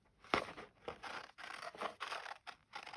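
Scissors snip out pieces of paper from a magazine for a junk journal, a quiet series of sharp crisp cuts and scrapes close to the microphone, with no talking.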